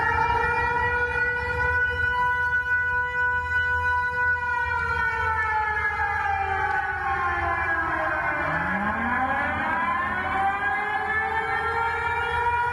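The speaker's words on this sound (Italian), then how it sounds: "La sirena dell'allarme antiaereo risuona tra il bacino di San Marco e i Giardini Napoleonici" An air raid siren wails steadily and loudly across the waterfront of Venice's San Marco basin, its tone holding and then sliding in pitch as overlapping rising and falling sweeps cross near the end.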